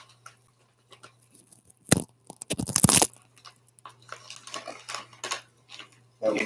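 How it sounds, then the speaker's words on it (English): Someone crunches into meat-flavored chips: a couple of sharp, loud bites, then quieter chewing and rustling, with a low steady hum in the background. "Did you hear that, folks? That was just the crunch."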